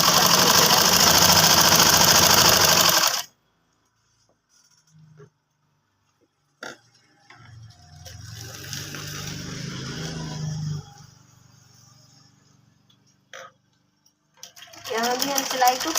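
Sewing machine stitching a kurti pocket seam, a loud rapid run at the start, then quiet handling noises and a softer low burst of stitching, ending with a short machine run again.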